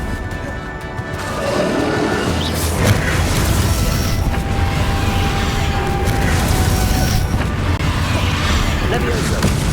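Confringo blasting spell explosions in Hogwarts Legacy, a loud, dense battle clash with crashing impacts and booming bursts layered over a continuous roar of spell effects.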